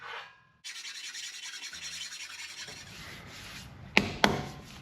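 A 5-inch grinder works over the steel bumper of a 1962 Dodge D100, a steady close rasping drone held for a couple of seconds, then shifting tone, with two sharp metallic clanks near the end.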